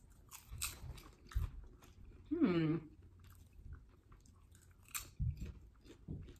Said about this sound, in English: You hear that? Yeah, you're crunching.